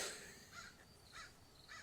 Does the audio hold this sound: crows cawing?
yes